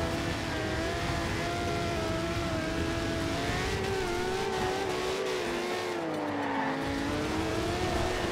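Car engine in the Forza Horizon 2 racing game pulling away and accelerating, with a steady rising engine drone and faint tire noise, loud and continuous throughout with no talk.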